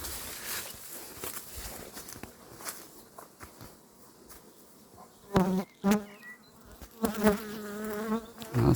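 Honey bees buzz around a hillside apiary, a constant hum with individual bees zipping loudly past close by, mixed with light footsteps and rustling.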